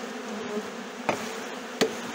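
Honey bees buzzing around an opened beehive, a steady close drone with a few louder individual bees passing near.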